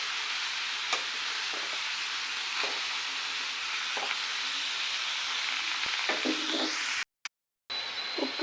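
Frying in a covered pan at home, a continuous close sizzle with occasional soft clicks of stirring, ending with a couple of brief lid knocks and a short silence.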